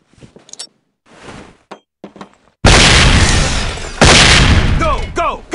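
A flashbang grenade bursts loud and close inside a bank in SWAT 4, a sudden broadband blast followed by a second burst and ringing chirps, after brief quiet radio-style chatter.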